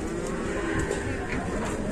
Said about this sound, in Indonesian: kayak sapi ngamuk ya